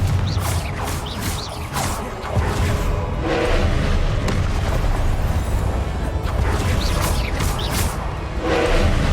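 Repeated blasts from the Confringo spell in the video game Hogwarts Legacy, with several booming hits and swooshes rising above a constant loud rumble of battle sound.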